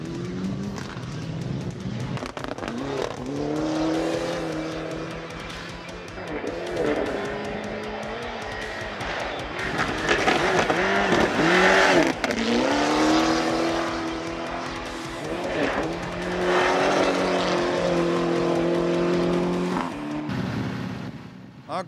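Rally cars practicing on a Norwegian winter stage ahead of the Numedals rally, engines revving hard through rising and falling gear changes, with tyres skidding and squealing on the snowy surface, loud and close throughout.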